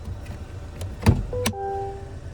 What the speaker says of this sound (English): Electronic parking brake.